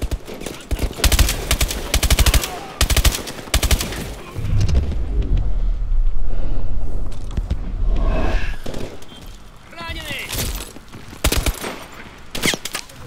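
Machine gun turret fire in the video game Call of Duty: Advanced Warfare, with loud rapid bursts of gunfire and booming impacts, a rumbling lull in the middle, then more sharp shots.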